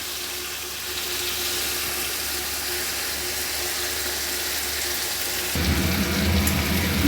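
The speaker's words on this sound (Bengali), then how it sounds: "এবার আমি অল্প জল দিয়ে দিলাম, জল দিয়ে আরেকটু আলুটা আর টমেটোটা ভালো করে যাতে সিদ্ধ হয়ে মিশে যায়" Water poured into a pan of cooking potatoes and tomatoes gives a steady rushing pour, then swells into a louder, rougher burst of bubbling near the end, heard up close with no talking.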